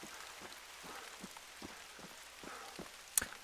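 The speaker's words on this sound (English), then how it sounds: "It's just starting to rain for me." Rain starting to fall on the European map in the hunting game theHunter: Call of the Wild, a faint, steady patter of scattered drops with a brief sharper tick near the end.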